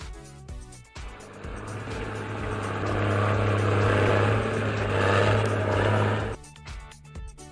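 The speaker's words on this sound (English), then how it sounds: "Bulldozer." A bulldozer engine runs with a steady low droning hum and broadband mechanical rumble, rising slightly in loudness, then cuts off abruptly and leaves a quieter background.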